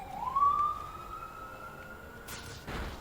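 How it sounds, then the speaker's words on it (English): Police siren with a rising then steady wailing tone, faint and distant-sounding as if picked up through another person's microphone during an online gaming chat, holding for a few seconds before brief bursts of noise. "hear police sirens."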